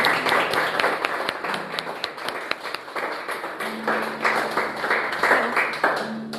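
A church congregation applauds at the close of a worship segment, steady dense clapping filling the space throughout, with faint voices and a tone or two beneath it.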